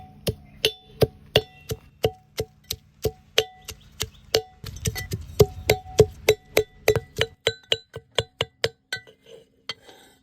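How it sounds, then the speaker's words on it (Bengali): Cumin, sliced dried chillies and a splash of water are pounded into a paste in a mortar: a steady run of sharp, ringing strikes at an even rhythm, close and loud, with a brief grinding shuffle in the middle. "এবার কিন্তু মশলাখান ভালোভাবে কুটিমো"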